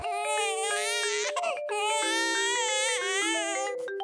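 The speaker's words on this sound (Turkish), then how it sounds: "Alisa bilmiyorum Elif neden ağlıyor" Toy baby doll crying with steady wailing sobs, loud and close, running continuously with a brief break near the middle and no talking.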